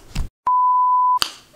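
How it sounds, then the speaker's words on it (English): A household smoke detector sounds one sharp, sustained electronic beep lasting under a second, loud and clean, framed by small handling noises before and after. "I got to take this doggone smoke detector down because I just can't have that beeping all through my video"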